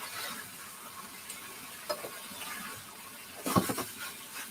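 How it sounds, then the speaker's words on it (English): Beef, black bean and cashew stir-fry sizzling in a pan, a faint, steady crackle with a brief clatter of stirring near the end. "All the sizzling."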